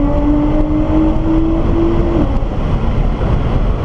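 A Nissan GT-R accelerating on a race track, heard from inside the car as a loud, continuous engine drone with a rising tone that drops off partway through, with no voices.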